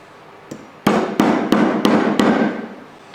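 Six sharp, loud hammer blows ring out in a steady rhythm, driving eight wedges into a sassafras log in a woodworking shop, with one lighter tap before them, close and without speech.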